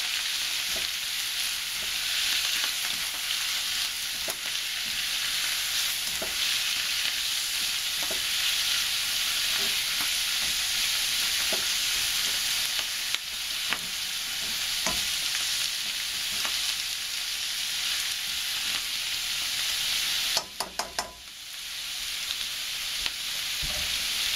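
Garlic sizzles in oil alongside bacon and cabbage, a steady crackling fry with periodic scraping stirs of a utensil against the pan, and a brief louder clatter near the end.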